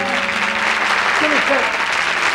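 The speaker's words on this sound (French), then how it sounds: "Je crois qu'on peut applaudir Mick Michel d'avoir bien voulu." Studio audience on a French television variety show applauds Mick Michel, with thick, steady clapping throughout and voices talking over it.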